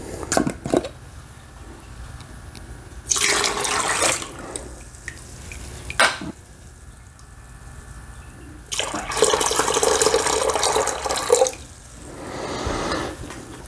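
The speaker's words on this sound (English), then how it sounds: "I just filled the bucket to about right here because I want to make sure that that honey and water mix together" Warm water runs into a bucket for making mead, in two loud bursts of filling with quieter gaps and brief clunks between them, no talking.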